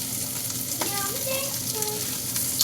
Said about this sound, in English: They'll probably have to grill for a little while because asparagus can be very, very tough